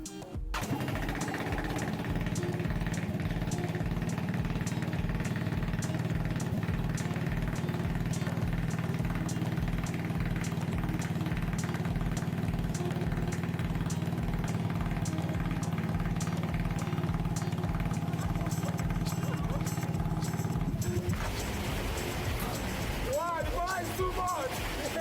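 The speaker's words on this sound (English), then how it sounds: "Let's hear the new engine start." Homemade three-wheel car's new engine runs steadily and loudly for about twenty seconds with a rapid, even pulse, then cuts off, followed by faint clattering.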